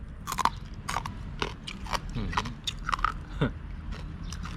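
Crispy skin-roasted rat tail being bitten and chewed up close, with a run of sharp crunchy bites and crackling chews in an uneven rhythm.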